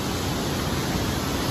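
Continuous broadband rush of a river flowing beneath a suspension bridge near Kalpeshwar Mahadev in Uttarakhand, steady and fairly loud throughout with no breaks, the water filling the whole short stretch without any voices.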